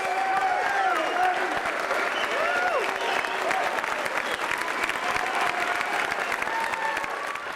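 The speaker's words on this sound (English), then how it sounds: "they gave him a standing ovation" An audience gives Kasparov a standing ovation, a dense and sustained wall of clapping from a large crowd that runs the full length at an even, loud level, with scattered voices and cheers mixed in.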